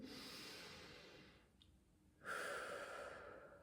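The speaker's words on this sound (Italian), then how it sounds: "Adesso fai un bel respiro" A slow, deep breath taken during a guided meditation: a soft, airy inhale, a brief pause, then a longer and slightly stronger exhale, quiet and close with no talking.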